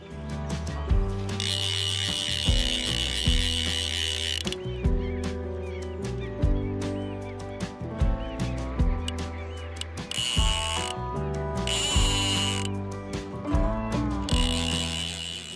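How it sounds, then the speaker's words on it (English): Clicking and ratcheting from a 3¾-inch Farlex click-and-pull fly reel as line is stripped off while a fighting Atlantic salmon is played on the River Spey, loud and close, in irregular bursts with a pulsing rhythm and no voices. "I'm using a 3¾-inch Farlex click and pull reel, so drag is applied by slowing the spool manually."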